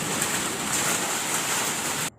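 A steady downpour of heavy rain hisses continuously near a home, close and loud, then cuts off abruptly at the end.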